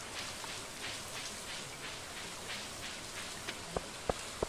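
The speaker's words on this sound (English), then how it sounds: "It's raining, obviously." Rain falls steadily in the farming video game Stardew Valley, a dense even hiss of drops on surfaces, with a few sharp clicks near the end.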